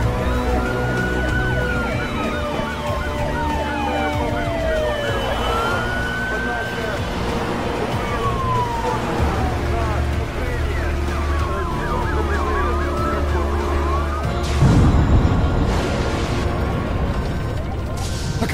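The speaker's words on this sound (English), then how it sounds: "Get fire trucks and ambulances to the runway." Wailing emergency sirens from fire trucks and ambulances rush toward an airport runway, several overlapping rising and falling tones filling the scene under loud engine rumble, with voices mixed in.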